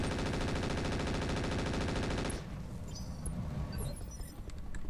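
Mech weapons in Roguetech BattleTech fire in a rapid, dense automatic stream for about two seconds, loud and steady, then cut off abruptly into scattered faint clatter and debris sounds.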